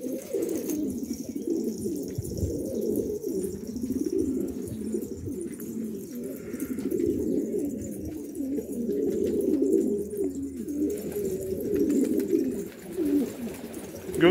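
Red silver-tail pigeons coo steadily in a loft, a continuous layered murmur of overlapping low calls from several birds close by, with faint rustling and no talk.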